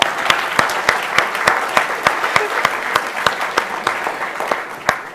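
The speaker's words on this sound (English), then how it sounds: "Can we have a big round of applause for Chris?" An audience at a tech conference talk claps loudly and steadily, a dense crackle of many hands with individual sharp claps standing out, close and sustained for several seconds.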